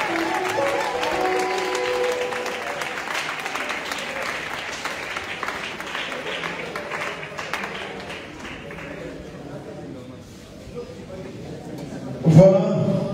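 A concert crowd claps and cheers in sustained applause that slowly thins and fades, with a voice speaking over it and a short loud burst near the end.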